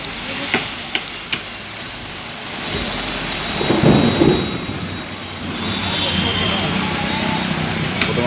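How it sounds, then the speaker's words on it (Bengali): A Kalbaishakhi thunderstorm in Bardhaman at night: heavy rain patters steadily on surfaces, a deep rolling thunder rumble swells midway, and a few sharp cracks come early on. "তারপর বৃষ্টি পড়ছে"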